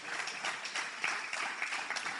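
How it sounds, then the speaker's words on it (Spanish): Congregation applauding in praise of God during a Spanish-English church service, a steady wash of clapping from many hands, fairly faint and distant, with no voices over it. "Alguien dele un aplauso al Señor"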